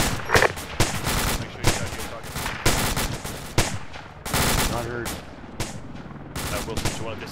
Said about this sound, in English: See, keep up rapid fire.